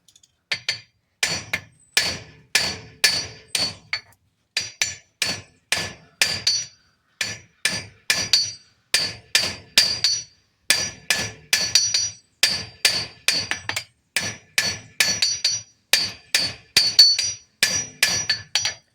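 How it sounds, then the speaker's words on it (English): Roughly forty sharp, ringing hammer blows flatten the head of a horseshoe nail with the rounded face of a hammer, falling in quick bursts of three to five with brief pauses, close and loud, with no talk. "Use the rounded side for flattening out the head. That's the head of your nail."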